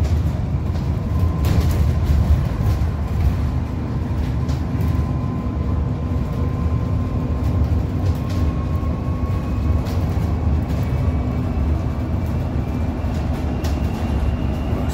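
A bus drives along a residential route with a steady, loud rumble of engine and road noise throughout, a faint tonal whine running underneath.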